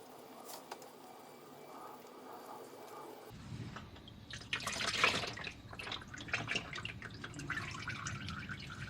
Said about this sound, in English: you will pretty much always get oil that's going to drip down and out